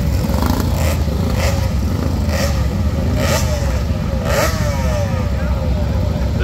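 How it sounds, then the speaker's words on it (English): A Suzuki motorcycle at a motorcycle sprint event at Leighton Hall revs its engine loudly and steadily, with repeated throttle blips rising and falling over continuous crowd and track noise, while people talk nearby. "that Suzuki's making an epic noise over there"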